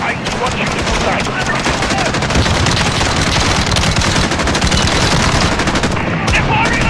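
Dense automatic and single gunfire in Call of Duty: Modern Warfare (2019) during a terrorist attack on civilians at Piccadilly Circus, London, loud and continuous throughout with shouted voices mixed in.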